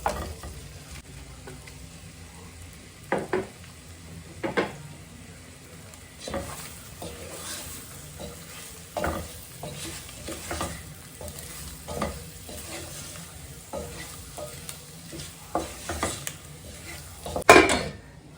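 Paneer stirs and fries in salted butter in a pan, a soft sizzle running underneath as a spoon scrapes and clinks against the metal in irregular strokes, with a sharper clatter near the end.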